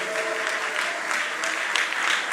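Church congregation clapping hands during a Malayalam Christian worship service, a steady dense wash of applause sustained throughout with a few sharper claps standing out near the end.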